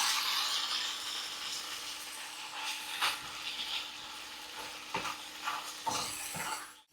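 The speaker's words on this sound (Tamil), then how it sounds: "இப்போ வந்து வெங்காயம் வதங்கிருச்சு அது கூட வந்து நம்ம தக்காளி ஆட் பண்ணிக்கலாம்" Onions and tomatoes sizzle steadily in a hot pan for chicken gravy, with a spatula scraping and stirring in occasional close strokes, the frying hiss fading toward the end.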